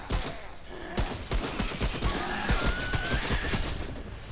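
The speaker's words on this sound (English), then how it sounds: "Assault rifle. Multiple shots. Goes through ammo quicker though." An assault rifle rattles off rapid bursts in Remnant: From the Ashes, with crisp repeated shots at a quick, uneven rhythm, loud and close over a busy game backdrop.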